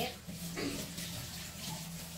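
Water runs from a tap as a cooking pot from soup preparation is rinsed, a soft steady splashing wash at low level with faint background voices.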